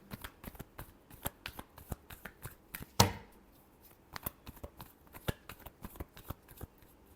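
Tarot cards are shuffled by hand in quick, uneven riffles and snaps close by, with one sharp louder slap partway through.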